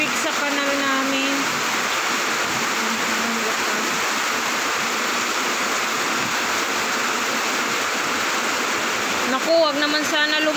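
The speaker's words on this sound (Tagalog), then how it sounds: "Tubig sa kanal namin." Floodwater rushes loudly through a residential canal during heavy rain, a steady broadband roar throughout with brief voices at the start and near the end.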